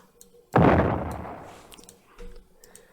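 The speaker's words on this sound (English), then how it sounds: "I have this kind of like dropper sound. It's like an explosion" A sudden booming, explosion-like impact from a dropper sound effect in a beat, with a long rumbling decay that fades out over about two seconds, loud and heavily processed.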